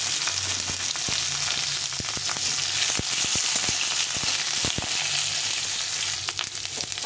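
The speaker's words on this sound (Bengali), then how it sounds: "আলু আর গাজরটা একটু ভেজে নিয়েছি।" Potato and carrot pieces frying in hot oil in a pan, a loud steady sizzle throughout with scattered pops and the scrape of stirring, close up and without speech.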